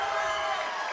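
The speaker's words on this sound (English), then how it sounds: "You hear the crowd erupt." A crowd at an underground MMA fight event roars steadily in a dense, even wash of cheering, sustained and somewhat distant with no single voices standing out.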